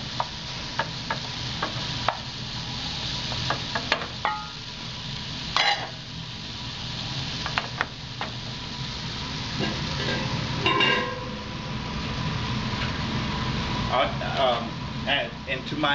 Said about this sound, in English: we're going to throw the onions and the shallots in there, and we're going to cook them down until they're a little translucent